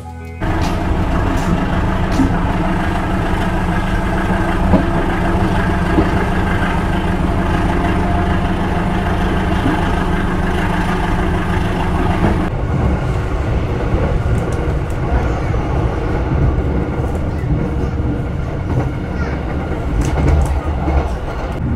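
The Rajabasa economy-class train from Lampung to Palembang, hauled by a rare CC201 locomotive, rumbles steadily with a loud, continuous engine drone and rail noise that shifts in character about halfway through.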